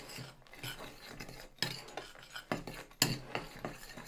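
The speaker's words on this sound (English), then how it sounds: "Next we add in our raisins, cranberries, pistachios and give that a good little mix round." Raisins, cranberries and pistachios are worked into Christmas biscotti dough with a utensil, producing close, irregular scraping and rasping strokes with a few sharper knocks against the bowl and no talking.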